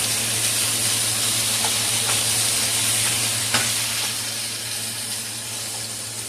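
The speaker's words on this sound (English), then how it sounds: "Wait for the bacon to cook" Four strips of bacon, cut into small pieces, sizzle and crackle steadily in a pan with occasional faint stirring scrapes, a dense close hiss that fades slightly toward the end.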